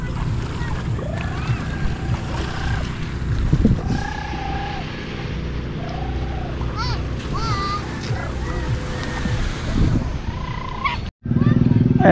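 Outboard motor on a wooden bangka boat, a steady low engine drone running throughout with water and wind noise, while people talk over it and the engine cuts out briefly near the end.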